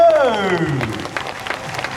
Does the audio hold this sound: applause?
yes